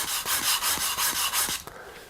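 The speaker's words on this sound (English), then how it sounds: "So I'm just going to tip it at a slight angle like this and start grinding on it." A plane iron is ground freehand on a sharpening stone in about eight quick, even back-and-forth rasping strokes, close and clear, then slows to a few lighter scrapes.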